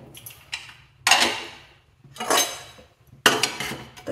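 Lid coming off a cooled pressure cooker, three sharp metallic clanks and scrapes spaced about a second apart, each ringing briefly and fading, close by and loud with no talking.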